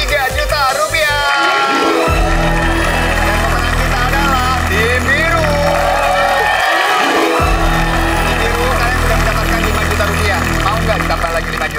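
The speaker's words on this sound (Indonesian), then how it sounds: "Kita berikan tepuk tangan untuk tim merah" Studio audience at a televised game show cheering and clapping for the red team, a loud continuous crowd roar with whoops, mixed with music and a host talking over it.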